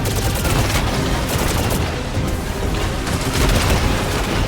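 Sustained volley of gunfire in the video game Destiny 2, fire strand bullets loud and dense throughout, with booming impacts under continuous combat noise.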